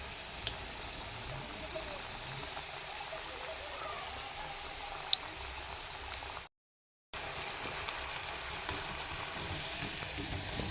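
Lobongo latika sweets frying in oil in a kadai give a steady soft hiss and bubbling that runs throughout with a brief dropout, no voices.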